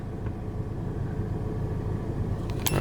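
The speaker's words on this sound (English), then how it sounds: "I have no idea what kind of car that is" An unidentified car passes with a loud engine, a steady low rumble filling the moment at moderate distance, with no talking over it.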